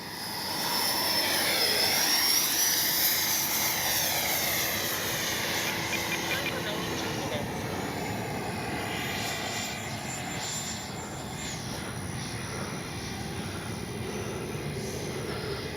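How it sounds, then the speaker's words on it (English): An FMS 80mm F-86 model jet whines past on its maiden flight in a steady, loud roar that swells and slowly fades, with a faint voice talking briefly underneath. "Man, that's a beautiful plane."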